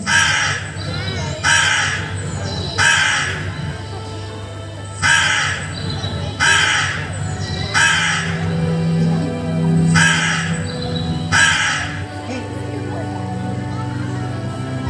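Repeated harsh cawing from crows, loud and close, coming in quick pairs and triplets across the whole stretch, with a low rumble underneath.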